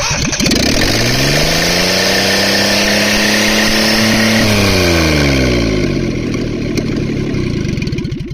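A small Perkins 103-10 diesel engine in a Cushman Truckster starts, running loud and steady, its pitch rising then settling into a rough, continuous idle throughout, with no talking.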